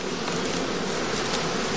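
Honey bees at a heathland skep apiary during heather blossom, a dense, continuous buzzing swarm that stays loud and steady throughout.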